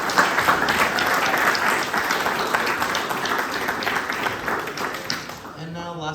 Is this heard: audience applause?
yes